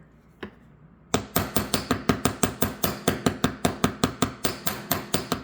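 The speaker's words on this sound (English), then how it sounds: "I always hammer my ear hooks so that they don't bend out of shape" Metal ear hook wire for earrings struck with a hammer, one lone tap and then a quick, even run of about twenty sharp, ringing blows, close and loud with no talking.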